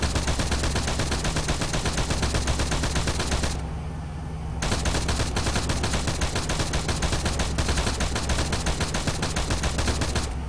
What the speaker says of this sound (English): the machine gun does work.